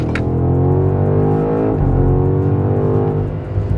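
A BMW M5 G90 engine, driven in manual mode with its sound partly piped through a subwoofer, hums a loud, steady, harmonically rich drone with a brief pitch dip midway; no one speaks.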